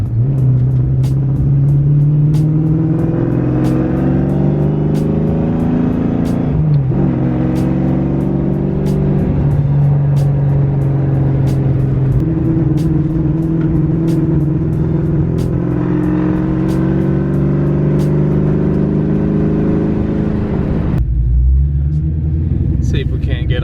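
Ford SN95 Mustang engine running in cold weather, a loud, continuous deep rumble with shifting harmonic tones close by, and talk over it, ending in a brief lower thump.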